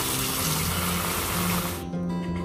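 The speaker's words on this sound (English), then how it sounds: "And I fill it with water" Tap water pours into a container for watering balcony plants, a steady close rushing splash that cuts off abruptly near the end, leaving a faint residual trickle.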